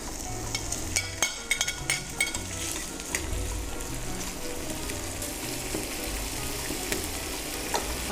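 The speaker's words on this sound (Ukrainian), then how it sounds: "Підсмажуємо спочатку цибулю і одразу ж до неї і шинку" Onion and ham fry in a pan with a soft, steady sizzle, along with occasional clinks and scrapes of stirring, heard close up with no talking.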